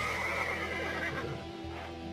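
A horse being broken in whinnies and neighs loudly and close by, with some restless stamping mixed in, filling the whole short moment without any talk.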